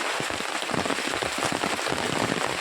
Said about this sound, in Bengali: প্রচণ্ড বৃষ্টি হচ্ছে এই বৃষ্টির মধ্যে ভিজে ভিজে ডিউটি যেতে হচ্ছে